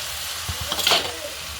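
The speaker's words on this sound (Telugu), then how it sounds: "ఇప్పుడు మనం కట్ చేసి పెట్టుకున్న టమాటా ముక్కలు వేసుకుందాం" Chopped tomato pieces dropped into a pan of ginger-garlic paste for a mushroom curry, giving a short, soft sizzle with a few clunks as they land, then a brighter hiss that fades quickly.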